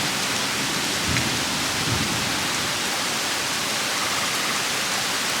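Heavy rain pours down steadily in a dense, even roar during a storm that dropped hail and left a yard flooded. It goes on without a break and no one speaks.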